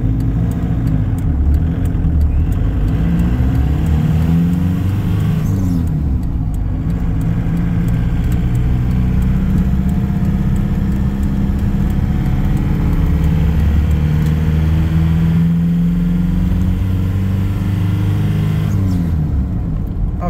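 A 1991 Toyota pickup with a swapped TDI diesel engine idles and revs gently while parked, a steady close rumble with mild rises in pitch and no talking.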